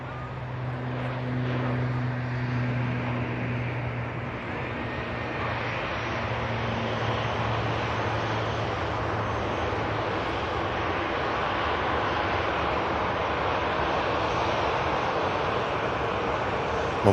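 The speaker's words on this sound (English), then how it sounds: "ATR heading out to the Isle of Man," A Loganair ATR turboprop airliner departing Manchester Airport for the Isle of Man gives a steady, loud engine roar with a low propeller drone that fades after the first few seconds, continuous throughout.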